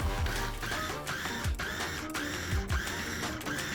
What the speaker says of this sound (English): Grab a food processor and add in your cut vegetables